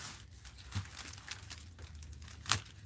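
A short strip of 1-inch tape is torn off at an art journaling table. Soft crinkling and rustling build to one sharp tearing snap near the end, close and fairly quiet.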